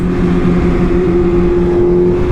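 A BMW M1000RR motorcycle engine, loud and close, holding a steady high droning tone with a strong buzzing harmonic, sustained without a clear rise or fall and with no speech.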